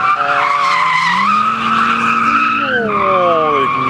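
A drift car on a test day in Hradec Králové squeals its tires loudly and continuously, the pitch rising and sliding, with engine roar underneath throughout.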